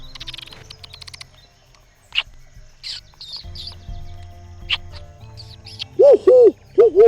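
Call of a jiwapori bird on Rubondo Island, a repeated rising-and-falling hooting phrase near the end, heard over softer chirps and scattered bird sounds in the forest.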